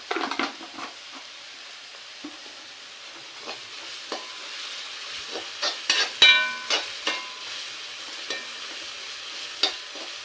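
Sliced onions with salt fry in a pan for kadai chicken, a soft steady sizzle broken by intermittent spatula scrapes and stirs, close and moderately loud, with no talking.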